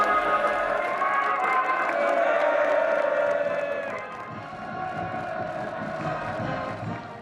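A huge crowd of tens of thousands of citizens and soldiers gathered in central Pyongyang fills the air with a steady roar of cheering and voices, swelling loud and then easing slightly to a continuous distant din.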